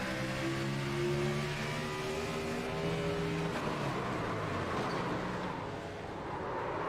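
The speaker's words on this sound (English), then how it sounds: "You hear them RPMs come up" Engine of a Gen 6 stock car at Pocono heard onboard, revs climbing and falling as the throttle is worked, with no gear engaging, steady and loud throughout with a harmonic whine.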